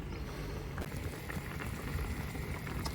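Pork with prunes and masala wine boils hard in a pot, a steady dense bubbling and rumbling that stays close and even throughout, with no voices.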